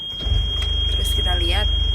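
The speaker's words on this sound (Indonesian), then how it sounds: "sekarang kita nyalain mesin." A sailboat's inboard engine starts up on the Baltic Sea and settles into a loud, steady low idle throbbing alone, with a faint high whine and brief tonal chirps over it.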